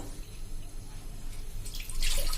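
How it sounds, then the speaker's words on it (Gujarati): About four cups of water are poured into a pot on a gas stove. A soft, close trickle and splash carries on throughout and grows brighter and louder near the end. "4 કપ જેટલું જ આપણે પાણી મૂકશું"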